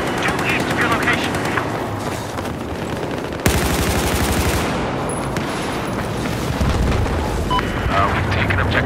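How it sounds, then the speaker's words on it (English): Sustained machine gun fire and scattered blasts roar through a Battlefield 4 battle, loud and continuous across several seconds, with voices talking over the shooting. "I spotted a hostile machine gunner"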